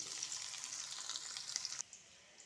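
Sliced onions and green chillies frying in hot tempering oil, a steady quiet sizzle and crackle that drops off abruptly near the end.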